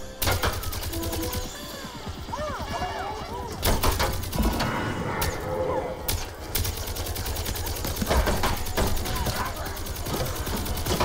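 Rapid gunfire in the shooter game Plants vs Zombies 2 3D, dense crackling bursts of shots with impacts and game effects, continuous and loud, over which a voice shouts briefly.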